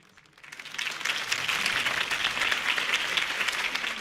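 A crowd in the video game Batman: The Telltale Series breaks into steady applause for a campaign speech after a brief quiet start, the clapping sustained and fairly loud throughout.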